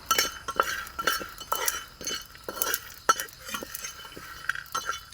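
Chickpeas with garlic, green chilli and salt are sautéed in a pan, a spatula scraping and clinking in an uneven rhythm of strokes over a faint sizzle, close and with no talk.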